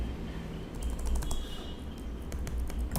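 Keys clatter on a computer keyboard in quick, irregular bursts of clicks, close and moderately loud over a low steady room hum, with no voices.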